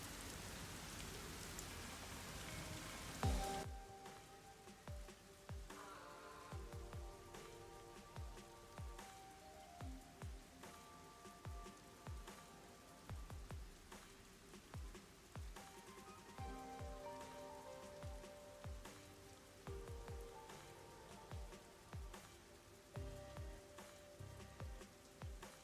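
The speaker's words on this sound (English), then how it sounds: "Akanai Ward is rainy all the time." Steady rain falls in the Rain Code video game, a constant hiss of drops on surfaces with soft tapping throughout, under game music with low thumping notes and no speech.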